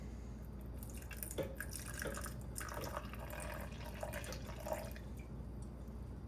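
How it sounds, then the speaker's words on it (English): Filtered water poured into a sourdough starter made with einkorn flour, faint splashing and dripping trickle in a quiet kitchen, soft and intermittent over a low background hum. "So we're going to do 60 grams of water."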